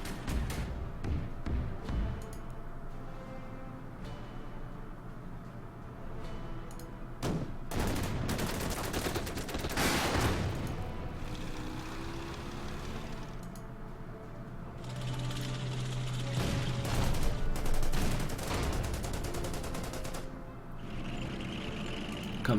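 Gunfire in the WWII strategy game Order of Battle: Endsieg during the Market Garden scenario: bursts of shots and rattling fire over a steady mechanical rumble, with a louder stretch of firing toward the end.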